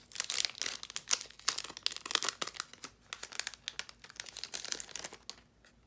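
Plastic wrapping peeled off a manga volume makes close, quiet crinkles and sharp crackles in irregular bursts, with no voices.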